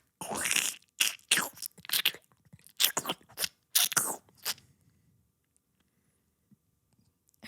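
A voice imitates chewing a Gusher fruit snack, making several short, wet, crunchy bursts up close before falling silent.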